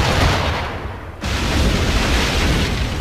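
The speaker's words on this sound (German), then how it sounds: "Und jetzt schießen wir zurück." Ship cannons fire in the pirate game Assassin's Creed 4 Black Flag, a loud continuous roar of booming broadside blasts with a brief dip in the middle.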